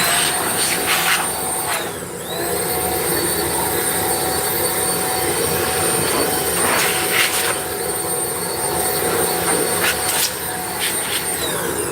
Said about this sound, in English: So I got this little blower here. Got this off Amazon.